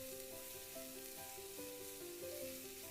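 Onions fry with salt in a pan, giving a steady, close sizzle while a spoon occasionally stirs, and music plays softly underneath.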